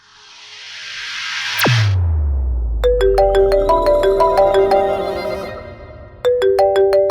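A phone ringtone plays loudly, a chiming melodic pattern of bright tones repeating in bursts, introduced by a sharp swooping effect and a deep rumble, with the tune restarting near the end.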